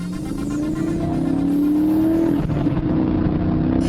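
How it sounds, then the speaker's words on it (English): A car with cut brake lines hurtles toward a lake in an audio drama, its engine a loud rising drone that builds steadily, then briefly drops and continues roaring at close range, with no speech. "the car hurtles towards the lake with its brake lines cut"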